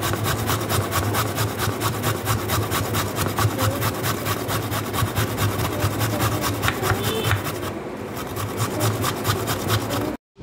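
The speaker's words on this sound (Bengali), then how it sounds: "তো দেখো থোরটা যদি এইভাবে ঘষে নেওয়া যায়, একদিকে যেমন ফাইন চপ হয়ে বেরোচ্ছে" Banana stem being grated by hand in a home kitchen, a steady rhythmic rasping scrape repeating rapidly and closely, loud and continuous for about ten seconds before stopping abruptly.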